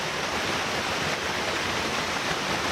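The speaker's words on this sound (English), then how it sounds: "We are right at the base of the waterfall." Fallingwater Cascades on the Blue Ridge Parkway, heard from the base of the falls as a loud, steady roar of rushing water with no break and no voices.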